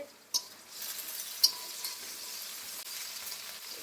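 Potato and egg curry frying in a pan, a soft steady sizzle with a few faint clicks of utensils, fairly quiet and without talk.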